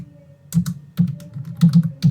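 Keys clatter on a computer keyboard as a web address is typed into a browser tab, irregular clusters of crisp close keystrokes with brief pauses, loud and alone.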